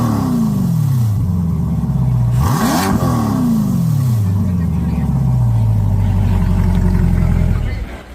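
A Chevrolet Corvette C8 Stingray with a center-exit exhaust revs repeatedly, engine pitch sweeping up and down in loud bursts, then settles into a sustained roar before cutting off.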